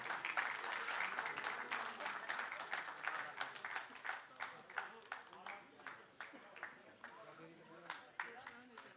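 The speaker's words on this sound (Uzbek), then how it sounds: "Qarsaklar bilan albatta mehmonlar." An audience claps for guests at an awards ceremony of an international bakhshi storytellers' gathering, a sustained round of applause that thins into scattered claps, under a faint voice.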